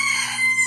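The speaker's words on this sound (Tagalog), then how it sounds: "May background pa, no? Tilaok ng manok," A rooster crows once, loud and close, a brief strained call with no other sounds around it.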